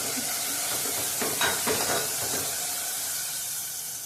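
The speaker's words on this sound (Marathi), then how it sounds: "घाटी मसाला, हळद, मिरची पावडर चांगलं भाजून घ्यायचं।" Ghati masala, turmeric and chili powder roasting in oil with onion and tomato, a soft continuous sizzle with a few stirring scrapes in the middle.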